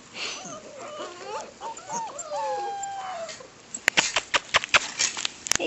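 Young Bernese Mountain Dog puppies whimper and yip outdoors in high, wavering cries, fairly close, followed by a burst of quick pattering taps near the end.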